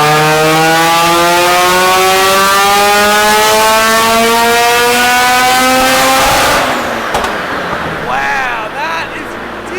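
A turbocharged Mazda RX7 rotary engine making 323 horsepower revs hard and loud up close, pitch climbing steadily for several seconds before dropping off, with a voice briefly audible near the end.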